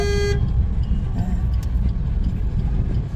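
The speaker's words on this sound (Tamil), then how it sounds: "இன்னைக்குன்னு பார்த்து டிராஃபிக் பாருங்க, கண்ணா பின்னான்னு வராங்க" Busy road traffic on a weekend midday drive, with a car horn tooting briefly at the start over a loud, rumbling engine and road noise that continues steadily.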